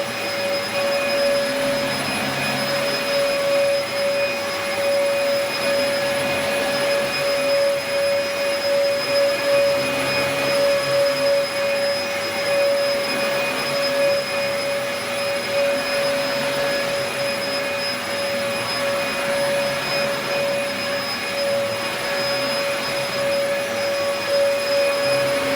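A Dyson DC04 vacuum cleaner runs steadily and loudly, its motor whine holding a strong tone while airflow roars beneath, pulling fluff and grit from the doormat through the clear bin without pause.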